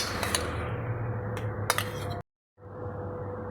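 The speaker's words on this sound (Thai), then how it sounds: "เราจะเอามะม่วงนะครับ ใส่โถปั่นเลยนะครับ" Peeled mango pieces dropped into a blender jar in a home kitchen, a few quick clinks and clatters against the jar, then a brief cut to silence before faint kitchen noise returns.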